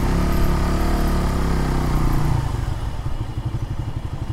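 A Suzuki Bandit 150cc motorcycle engine drones loud and close, then drops into a rapid, rhythmic lumpy idle-like chug with no voices.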